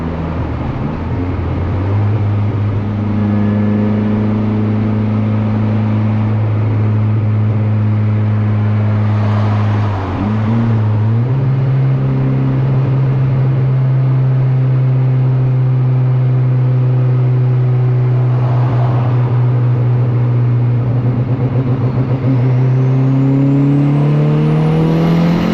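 A turbocharged Honda Civic fitted with anti-lag holds a loud, steady drone while idling up. The pitch dips briefly midway, then the engine climbs in revs toward the end. No voices are heard.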